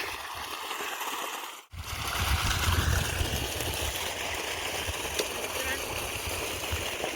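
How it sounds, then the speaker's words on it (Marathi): Irrigation water runs steadily into a newly planted tomato field, a continuous broadband rush after a brief pause near the start. "आम्ही मागाशी टमाटे लावले आणि त्याला पाणी भरणं चालू आहे"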